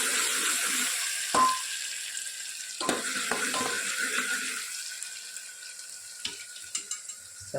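Green chillies, spring onion, tomato and garlic frying in a few spoons of oil for a guar-potato dish, a steady sizzle with a few clattering knocks of a utensil against the pan.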